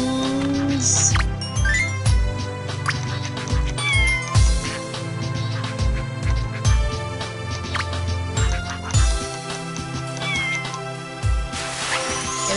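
Cat meowing in the Scribblenauts video game, repeated cartoonish meows over bright looping game music, loud and up close.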